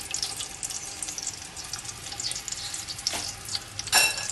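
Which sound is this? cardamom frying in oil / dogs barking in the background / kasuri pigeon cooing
cardamom frying in oil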